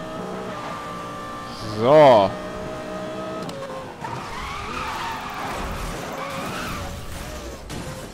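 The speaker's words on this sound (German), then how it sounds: "Jetzt kann ich auch ein bisschen besser driften." Tires squeal as a car drifts and skids in Need for Speed Most Wanted 2012, a loud rising screech over steady engine drone, then continued engine roar; someone speaks briefly.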